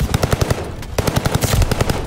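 Rapid automatic gunfire from a Call of Duty: Vanguard match, loud bursts of closely spaced shots broken by a brief pause near the middle, then another sustained volley with no talking.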